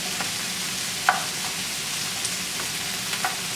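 Chopped garlic and sautéing onions sizzle steadily in a frying pan, a constant fine hiss with a few soft clicks from stirring, close and moderately loud, with no talking.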